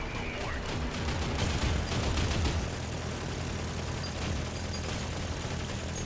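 Rapid gunfire in a video game, dense bursts of shots and heavy impacts crowding together, loudest early then settling into a steady rumbling barrage, with no voices.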